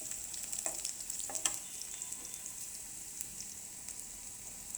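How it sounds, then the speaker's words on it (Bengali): Onions fry in a pan for a spinach and prawn dish, giving a continuous soft hiss and sizzle with a few sharper crackles and stirring scrapes, alone and fairly quiet. "প্রথমে পেঁয়াজটাকে ভেজে নিব"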